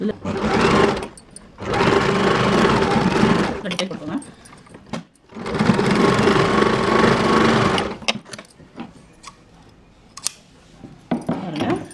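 A domestic sewing machine stitches kids' cotton underwear in two long, rapid whirring runs separated by short pauses, followed by lighter clicks and handling noises, with a voice speaking nearby.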